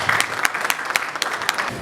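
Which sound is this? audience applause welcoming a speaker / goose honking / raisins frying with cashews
audience applause welcoming a speaker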